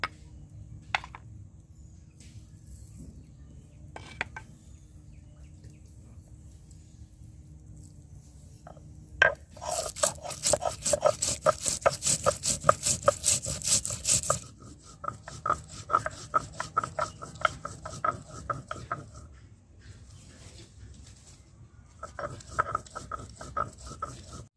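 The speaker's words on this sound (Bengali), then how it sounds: "তো মশলাগুলো আমি এখন বেটে নিচ্ছি।" Spices are ground into paste on a grinding stone, giving dry rasping, rubbing strokes in a steady back-and-forth rhythm. Quiet stretches fall between bursts, with a dense run of grinding near the middle, close and fairly soft.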